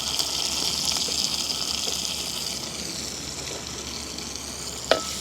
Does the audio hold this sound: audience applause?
no